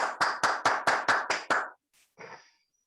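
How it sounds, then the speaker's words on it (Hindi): Eight sharp, evenly spaced claps from a single person, close and loud, welcoming a speaker in an online webinar, then a short pause and a brief faint sound. "राजेंद्र सर, जोरदार तालियों के साथ में"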